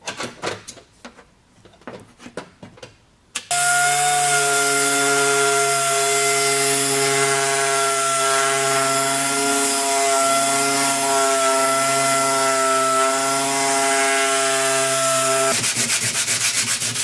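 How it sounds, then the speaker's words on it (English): Body filler on a Golf Mk2 wheel arch is sanded: a few seconds of uneven scraping strokes, then a loud, steady, whining sander grinding continuously before a sharp cut to rapid rasping. "So after what feels like about 40 hours sanding down the filler"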